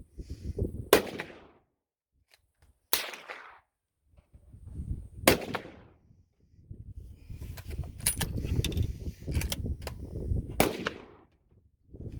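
Big bore rifles, some from several world conflicts, fire at targets outdoors: loud sharp shots spaced a few seconds apart, with low rumbling handling and movement noise in between.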